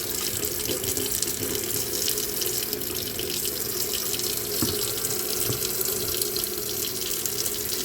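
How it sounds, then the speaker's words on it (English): Warm water running steadily from a tap into a sink before hand-washing a cotton cross-stitch canvas, a continuous close splashing hiss lasting the whole stretch with no talk. "the first thing I'm going to do is run some warm water."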